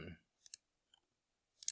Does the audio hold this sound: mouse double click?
yes